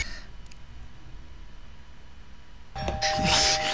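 A doorbell rings suddenly after a long quiet stretch, a bright sustained chime that sounds loud and near and continues to the end.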